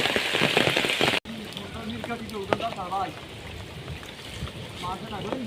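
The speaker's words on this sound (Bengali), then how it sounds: "এখন আবার বৃষ্টি অনেক বাড়তেছে" Heavy rain falls steadily during a village flood, a dense, close wash of drumming that runs throughout, with people talking faintly beneath it.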